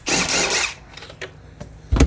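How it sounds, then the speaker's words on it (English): A Phillips screwdriver drives out taillight screws on a 2002 Honda CR-V, starting with a short, loud whirring burst and followed by a few sharp clicks and a final clunk close by. "put our Phillips in here and drive these out"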